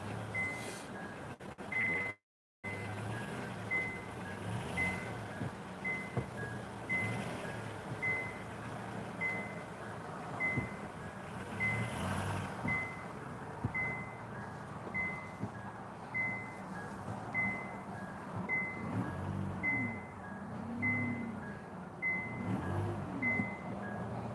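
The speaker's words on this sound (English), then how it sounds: "So you're still having a reverse alarm." A vehicle's reverse alarm beeps in a steady, evenly spaced rhythm, about one beep a second, for the whole stretch, heard at a moderate distance over rumbling engine and traffic noise.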